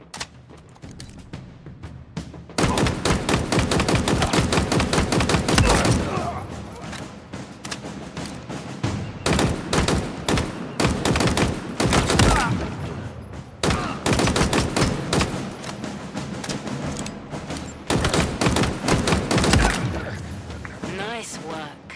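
Repeated bursts of gunfire ring out in Halo Infinite as targets are shot during a training sequence, loud rapid volleys separated by short pauses, with a voice speaking between some of the bursts.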